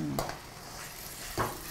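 Chicken dry masala base sautéing in a pan, a low continuous sizzle broken by two sharp spoon-against-pan scrapes, close up with no talking.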